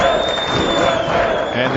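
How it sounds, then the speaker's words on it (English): Crowd noise at a Mosconi Cup pool match, a dense, steady wash of applause and cheering filling the hall while a commentator talks over it. "crowd getting a little more excited now"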